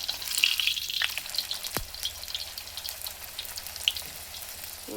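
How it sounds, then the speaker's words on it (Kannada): Plain chonge dough, made without filling for a Muharram treat, deep-fries in hot oil with a dense, close, continuous sizzle and crackle, loud and unbroken by talk. "ನಾನು ಇದನ್ನು ಎಣ್ಣೆಲಿ ಕರಿತಾ ಇದೆ ನೋಡಿರಿ"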